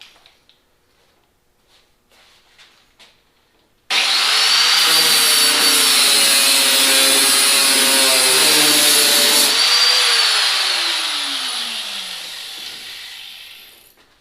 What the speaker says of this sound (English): Let's give the flap wheel a try.